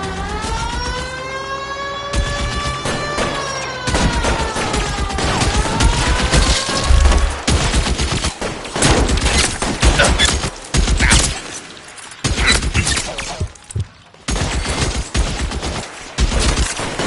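Shootout gunfire in the L.A. Noire video game: dense, loud bursts of shots and rapid fusillades crackle throughout, mixed with splintering impacts, over a tonal musical score at the start.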